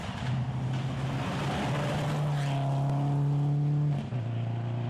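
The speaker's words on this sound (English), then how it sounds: "Green's going well in the MRU Subaru" A Subaru rally car at Japan Rally 2011 runs hard on a rally stage, engine revving high and loud, climbing through a gear before a quick shift near the end.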